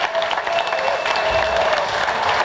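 Studio audience applause on a live German television show as a band is welcomed onstage: a dense, steady wash of clapping from a large crowd, sustained throughout at even loudness.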